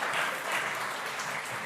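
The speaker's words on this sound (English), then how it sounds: "give her a big round of applause" Brief, steady applause from a conference audience, a dense, uniform clatter of many hands at moderate loudness, heard alone.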